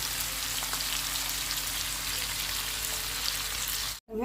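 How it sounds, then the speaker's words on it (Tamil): Fish sizzle and fry on a hot dosa griddle, a steady dense crackle that fills the whole stretch at close range before cutting out abruptly near the end. "எல்லா மீனையும் வறுத்தாச்சுங்க நல்லா மொறு மொறுன்னு வறுத்தாச்சா"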